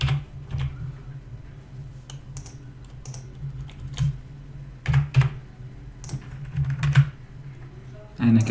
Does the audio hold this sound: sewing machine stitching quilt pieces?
no